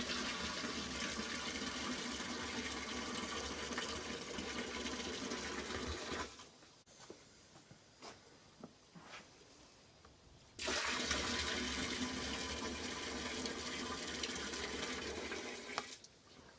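Water pours in a steady, loud broadband rush into a DIY hydroponic container, breaking off for a few seconds of quieter splashes and trickles before the heavy pouring resumes and runs to the end.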